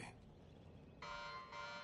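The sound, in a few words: alarm going off in the video game Knockout City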